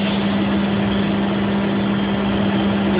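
A heavy Mattison 24 x 72 horizontal surface grinder runs with a steady low mechanical hum and drone, a constant tone holding evenly at close range with no talking.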